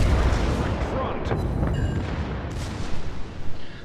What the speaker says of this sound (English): Secondaries are opening up on him